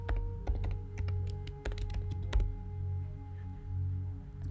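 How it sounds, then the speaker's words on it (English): Keys tapped on a computer keyboard while a road name is entered for a map design, irregular clicks and short bursts over a steady low electrical hum, close and fairly quiet. "now I'm just going to type in the name of this road"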